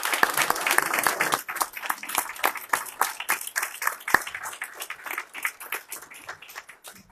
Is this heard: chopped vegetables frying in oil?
no